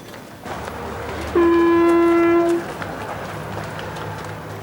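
A train crosses Scandinavia toward Tallinn in the summer of 1991, its horn sounding one long, loud blast over the steady rumble of rolling wheels.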